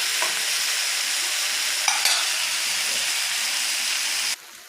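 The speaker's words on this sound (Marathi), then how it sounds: "त्याला मस्तपैकी सॉफ्ट असं एकदम आपण फ्राय करून घेऊया एकदम सॉफ्ट" Onion and tomato masala fries with salt in a pan, a loud steady sizzle and hiss close up, with a couple of brief stirring scrapes before the frying sound drops away sharply at the end.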